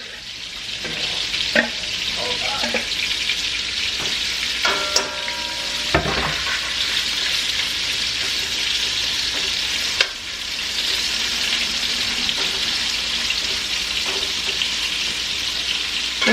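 Sausage frying in a pan for spaghetti, a continuous loud sizzle with occasional stirring scrapes and clinks, close and alone without talk.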